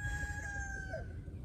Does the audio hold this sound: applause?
no